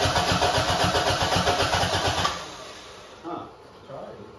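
A Toyota Corolla AE92 SR5 with a 4A-F engine and a freshly fitted Weber carburetor runs loudly in a rapid, pulsing chug, then abruptly cuts out, leaving a quieter tail with brief voices.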